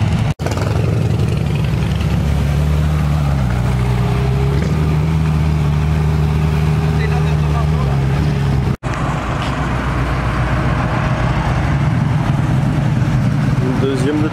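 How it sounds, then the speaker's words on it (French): A Ferrari 458 Italia arrives at a car meet, its engine a steady low rumble and drone that shifts pitch midway, heard close among other idling cars while people talk nearby. "on a une Ferrari 458 Italia qui vient d'arriver"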